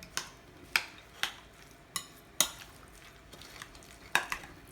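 Chicken dum biryani ingredients stirred and mixed in a pot, with a series of sharp utensil knocks and scrapes against the metal at irregular intervals, close and fairly quiet, without talk.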